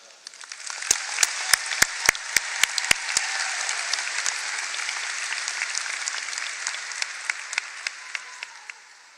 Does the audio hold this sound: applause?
yes